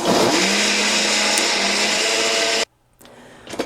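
Blender on high speed liquefying a strawberry agua fresca mixture, a loud whirring motor roar that runs steadily then cuts off abruptly, followed by brief quiet and small clatter.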